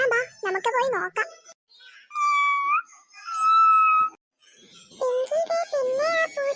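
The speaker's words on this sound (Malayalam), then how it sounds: "പിന്നെ ആ പൂച്ച കരയുന്നു." A cartoon kitten cries with two drawn-out, high wavering meows in the middle, loud and close, framed by a child-like cartoon voice talking before and after.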